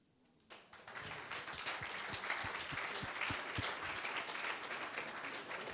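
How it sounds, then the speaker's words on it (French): Audience applause at a public meeting on territorial reform in the Alpes-Maritimes, a steady dense clapping that starts abruptly after a brief quiet moment and carries on at an even level throughout. "je note qu'elle est un peu plus applaudie que le ministre Valigny"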